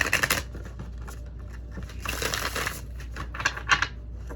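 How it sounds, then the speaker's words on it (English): A deck of tarot cards is shuffled close by in soft riffling bursts and papery rustles, with quiet pauses between the flurries and no talking. "one more shuffle and then we'll cut the deck"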